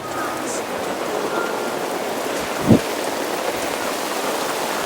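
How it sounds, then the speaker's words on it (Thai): Heavy rain pours steadily outside at a Thai campsite beside a clear stream, a dense continuous hiss with one brief louder thump partway through and no speech. "แต่ก็เริ่มเบาแล้วนะ ฝนก็เริ่มเบาแล้ว"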